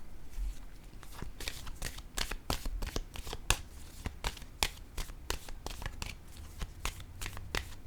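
Tarot cards are handled and shuffled up close, a rapid series of crisp riffling snaps and flicks over a quiet background.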